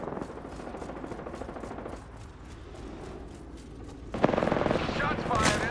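Gunfire in the Apex Legends video game, a quiet run of rapid repeated shots under talk, growing louder and harsher in the last seconds with sharp bursts.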